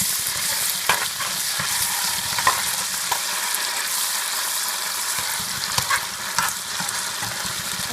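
Tomato paste frying in a pan for Haitian-style spaghetti with hot dog, a steady loud sizzle with bursts of crackling and the occasional scrape of stirring, close up and continuous.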